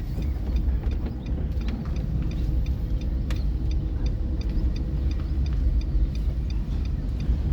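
A car is driven during a driving-school lesson. A steady low engine and road rumble is heard from inside the cabin, with faint regular ticking like an indicator running throughout.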